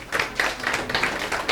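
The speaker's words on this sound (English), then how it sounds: "So can you give a round of applause?" Scattered audience clapping at a business workshop, a short burst of uneven claps rising and falling over about a second and a half, fairly close and unaccompanied by talk.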